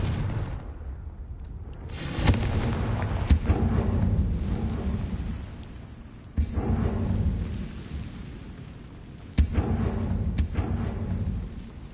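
Confringo fire spell blasts in the Hogwarts Legacy video game on PS5, a string of loud booming explosions, with sharp hits at intervals over rolling low rumble.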